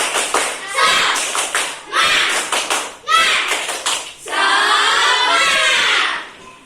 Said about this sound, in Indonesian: Berikutnya tepuk semangat.